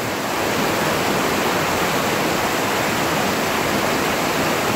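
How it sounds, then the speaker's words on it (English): Loud, steady roar of river rapids rushing nearby, a dense unbroken wash of churning water with no voices. "The rapids right here, as you can see, are running pretty rough, so it's kind of noisy in here"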